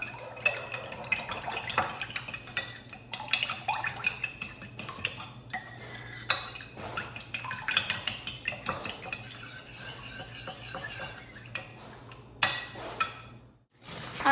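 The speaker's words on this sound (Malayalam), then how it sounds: "ഇനി നമുക്ക് നന്നായിട്ട് മിക്സ് ചെയ്ത് കൊടുക്കാം." Egg being mixed in a bowl, a busy run of rapid clinking and tapping of utensil against the bowl with small splashy drips, close and continuous before a brief pause near the end.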